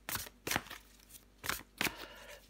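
A tarot card drawn from the deck: four short, crisp papery snaps come in two pairs at an even pace. They are close and fairly quiet, with no voice over them.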